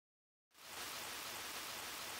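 Rain in the video game Pokemon White begins abruptly after a silent moment and then pours as a steady, dense hiss that continues evenly to the end.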